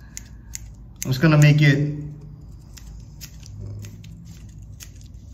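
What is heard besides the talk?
scissors trimming strands of a fishing lure skirt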